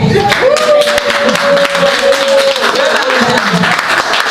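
Loud, sustained applause and cheering from a crowd at a first-anniversary celebration of a Paris women's peace group, with a sustained voice or whoop carrying over the dense clapping throughout.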